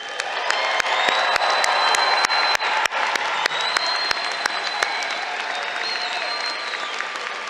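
A large commencement crowd applauds graduates in a college hall, dense sustained clapping lasting several seconds with a few sharp nearby claps, scattered cheers and faint whoops.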